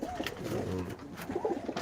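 Pigeons coo softly in a breeding loft, a few low burbling calls at close range with faint room noise around them.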